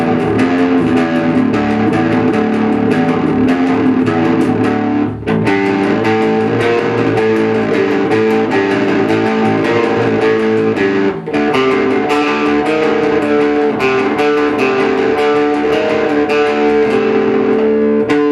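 A Gretsch 2220 bass guitar played through a Fender Rumble 40 amp on its dirty channel, vintage setting, gives a loud, continuous distorted bass line with steady notes and two brief dropouts, alone without talk.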